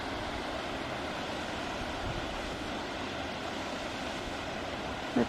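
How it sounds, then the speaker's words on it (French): A small waterfall beside a little bridge at Lake Villefort in Lozère, where schist-lined streams feed the lake, gives a constant broadband rush of falling water, loud and unbroken, with no voices. "Une jolie cascade"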